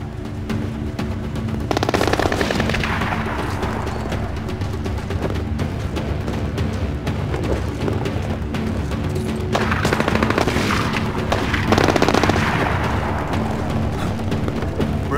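Sustained automatic gunfire from the Splinter Cell video game, set in Benghazi, rattles loud and dense with heavy booming swells, nearly continuous across the whole stretch with no voices.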